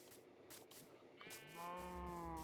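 Cows mooing in Minecraft, a low drawn-out moo with a tonal, harmonic bellow rising in the second half over a steady game background; no talking.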